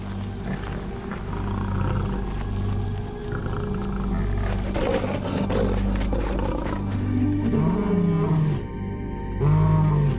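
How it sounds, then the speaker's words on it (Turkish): Lions roar loudly in the wild, with deep, drawn-out calls building over a steady low rumble and other animal sounds in the background. "Ama kendi bölgelerini kükremeyle ilan ederler."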